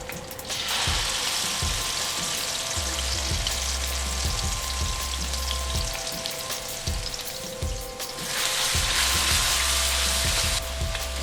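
Blended spice paste for Indonesian mie goreng fries in a pan with a steady, loud sizzle, broken by rhythmic low scraping and stirring strokes; no one speaks.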